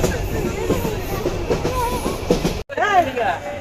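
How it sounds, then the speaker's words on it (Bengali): Lalmoni Express train running through Sonatala railway station toward Bogura, with a steady rumble of rail noise while voices of a crowded platform or carriage talk over it, then a brief cut and more speech. "Lalmoni express Sonatala railway station পেরিয়ে বগুড়ার উদ্দেশ্যে।"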